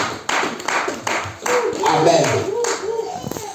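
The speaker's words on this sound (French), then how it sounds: "Acclamons pour ces paroles" Congregation in a church claps in a burst of several short rounds of applause that rise and fall, with a voice speaking over the clapping.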